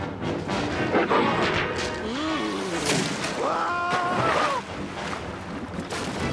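A boat is smashed in a loud crashing, splintering impact with sloshing water, followed by a cry and a tonal wail rising over the noise.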